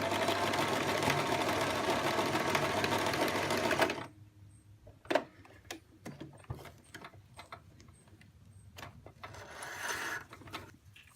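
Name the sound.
sewing machine sewing a zigzag buttonhole stitch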